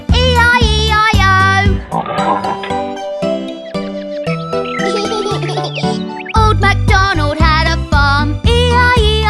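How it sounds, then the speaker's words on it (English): Oinking pig sounds set inside the Old MacDonald children's farm song, with bouncy sung melody and bright jingling accompaniment running throughout. "With an oink oink here and an oink oink there, here an oink, there an oink, everywhere an oink oink"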